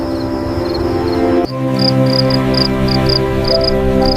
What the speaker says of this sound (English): But I also really like crickets because they sing at night.